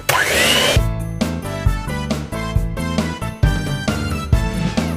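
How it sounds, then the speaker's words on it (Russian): Electric hand mixer beating a batter of eggs and vanillin for almond-cream shortcrust tart filling, a steady motor whir with repeated knocking bursts as the beaters strike the bowl, close and fairly loud. "И опять миксером хорошенько перемешаем."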